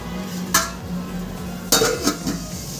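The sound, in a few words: lid placed on cooking pot of mango chutney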